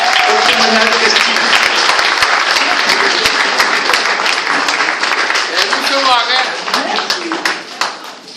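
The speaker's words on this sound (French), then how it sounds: "Je vous demande de l'applaudir bien fort" Sustained audience applause at a senior citizens' gathering in Saint André, dense and loud throughout with some cheering voices mixed in, gradually thinning toward the end.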